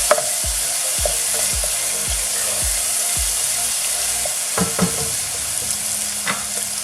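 Spices fry in oil for a Bengali dry fish curry, a steady hiss of sizzling under repeated spoon scrapes and knocks against the pan in a regular stirring rhythm.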